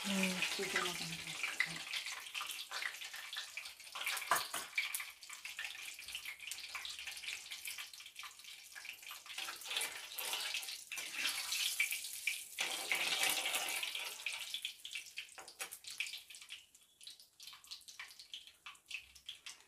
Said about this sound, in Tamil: கடுகு கொஞ்சம் அதை பொரியணும்